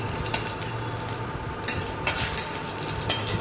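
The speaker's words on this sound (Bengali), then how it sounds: "কড়াইয়ের মধ্যে ঘি দিয়ে আমি 2টো এলাচ আর একটা তেজপাতা" Ghee sizzling in a pan with two cardamom pods and a bay leaf, a steady close frying hiss with a few soft stirring clicks and no voices.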